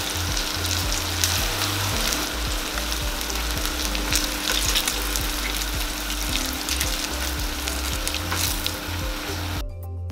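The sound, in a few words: saltfish fritters frying in oil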